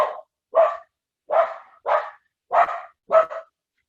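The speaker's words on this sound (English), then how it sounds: "There is a dog." A dog barks six separate times in a fairly even rhythm, close and clear against a silent background, with no talking.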